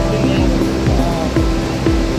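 Steady broadband roar of the Mandakini waterfall at Harsil, India, rushing continuously and fairly loud, with no voices.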